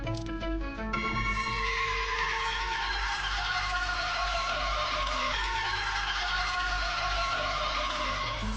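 An Arabian horse gives a loud neigh near the start, over a dense, continuous bed of background sound that runs throughout.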